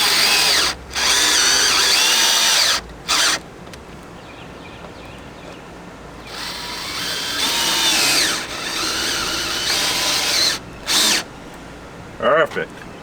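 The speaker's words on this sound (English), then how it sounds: "I used a 7/32 drill, and it seems to be fine" A power drill with a 7/32 bit whines in several bursts, spinning up and boring into an RV panel during a repair, with brief pauses and short stops between runs.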